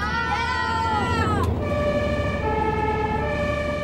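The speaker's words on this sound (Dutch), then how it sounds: "Willen we de sirenes aan of laten we die uit?" Emergency vehicle siren wailing loudly and steadily, its pitch sweeping down then holding a level tone, with road and engine noise underneath.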